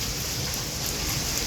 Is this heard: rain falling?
yes